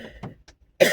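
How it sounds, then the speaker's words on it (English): A single sharp cough bursts in loudly at the end, preceded by a few faint breathy sounds and near-silence. "I would sure call that a confirmation cough"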